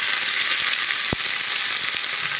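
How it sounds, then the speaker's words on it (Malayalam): Mustard seeds spluttering in hot oil with dried red chillies and curry leaves, a loud close continuous sizzle with scattered pops and one sharp crackle midway. "കടുകൊന്ന് പൊട്ടിക്കഴിയുമ്പോൾ 2 വറ്റൽമുളക്, അതുപോലെ തന്നെ കുറച്ച് കറിവേപ്പില"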